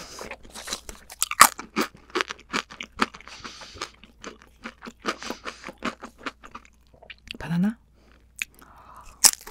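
Close crunching and chewing of air-baked crackers topped with fruit and cheese, a dense run of crisp bites and chews that eases into softer, sparser crunches, with a brief rustle near the end.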